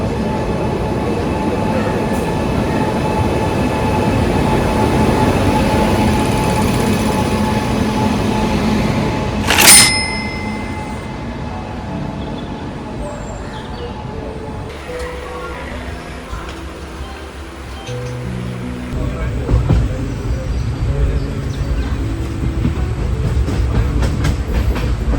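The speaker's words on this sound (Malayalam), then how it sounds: "അപ്പോൾ ട്രെയിൻ പെട്ടെന്ന് തന്നെ വരും." A train pulls into a station in Goa, India, with a loud, continuous rumble of wheels on rails, a sharp horn-like blast or squeal partway through, and ongoing clatter as the cars roll past nearby.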